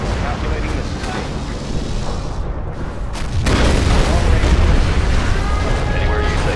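Missile strikes in the Command & Conquer Generals Shockwave Remastered game produce loud, rumbling explosions with a dense low boom. The blasts swell into a heavier sustained roar partway through, under game unit voices.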